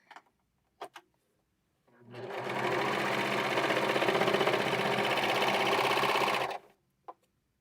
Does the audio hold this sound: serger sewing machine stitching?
yes